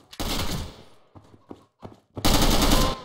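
Gunshots in a first-person video game, a sharp loud shot at the start, a few scattered smaller cracks, then a heavier loud burst near the end, with no talking.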